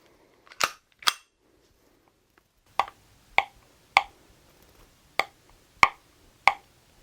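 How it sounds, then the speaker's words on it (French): Sharp metallic taps on the barrel of an unloaded handgun with no round chambered, struck in separated pairs and singles with pauses between, crisp and close in a quiet room. "Voici le son d'une arme non chargée, qui ne comporte aucune munition chambrée."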